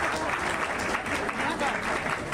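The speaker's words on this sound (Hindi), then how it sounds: "तालियां बजाइए जोर से" An audience at a public event applauding with steady, dense clapping that fills the whole moment, fairly close and loud.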